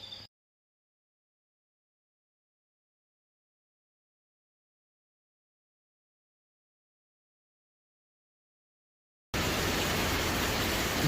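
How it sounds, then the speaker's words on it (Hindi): Heavy rain and a flowing waterfall beside a lake make a loud, steady broadband rush that begins abruptly near the end, after a long stretch of silence. "इतनी बारिश, सामने झील, बहता हुआ झरना"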